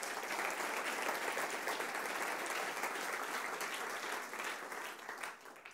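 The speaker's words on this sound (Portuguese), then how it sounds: "dê um aplauso forte para ele" Sustained audience applause from a crowd at a Portuguese-language sermon, steady dense clapping that fills the whole stretch and tapers slightly at the end, with no voices over it.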